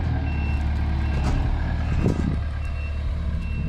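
A dump truck reversing on a house pad fine-grading site, its backup alarm beeping in a steady repeating rhythm over the rumbling diesel engine, fairly close and loud.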